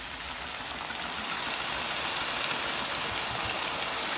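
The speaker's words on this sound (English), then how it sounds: "Now we're ready to deglaze it with some Chianti." Chianti red wine splashes into a hot pan of browned meat for deglazing, a dense steady sizzle and hiss that swells and holds evenly throughout, with no talking.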